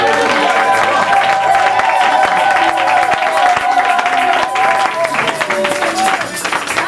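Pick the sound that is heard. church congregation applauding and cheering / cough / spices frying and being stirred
church congregation applauding and cheering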